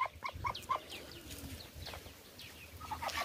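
Several ducks call in short, nasal bursts, a few quick squawks close by over a quiet outdoor background, with scattered rustling.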